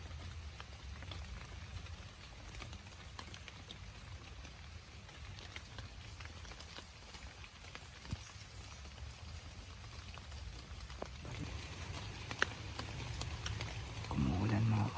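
Steady rain falls outdoors during a hunting trip, a dense continuous patter and hiss that holds evenly throughout and swells slightly near the end.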